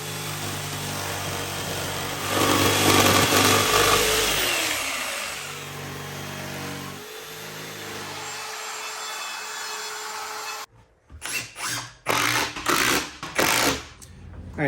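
A rusty parts cleaner made from an old cement mixer runs with a loud rumbling, grinding motor drone that swells, then settles and cuts out, followed by sharp metallic clanks and rattles near the end.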